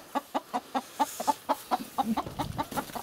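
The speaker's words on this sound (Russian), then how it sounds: "тут курочек привезли. 9 курочек и один петушок" Chickens cluck in a quick, regular series of short calls, close by, with a few softer murmurs mixed in.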